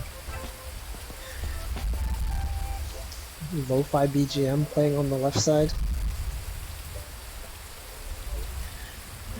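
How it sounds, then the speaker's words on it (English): Rain falling in a VR game makes a soft, steady hiss throughout, while someone speaks briefly over it in the middle. "This is a pleasant sound of rain."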